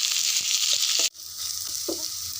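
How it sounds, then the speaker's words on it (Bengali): Chopped onions drop into hot oil and fry with a loud, bright hiss that cuts off abruptly, then settles into a softer, steady sizzle with faint clinks of stirring. "প্রথমে গরম তেলেই পেঁয়াজ কুচিগুলো দিয়ে দেব"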